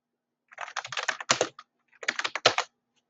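Close-up typing on a computer keyboard comes in two quick bursts of rapid key clicks separated by a short pause, with no other sound around them.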